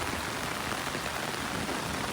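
Steady, dense hiss of heavy rain pouring down in Dubai, a continuous wash of drops with no breaks and no voices.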